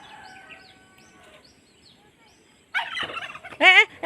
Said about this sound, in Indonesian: Itu ada kalkun, sudah banyak.